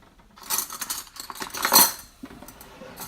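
A metal spoon stirring almond butter with olive oil and salt in a container, giving several close scraping clinks and taps in an uneven rhythm with no talk.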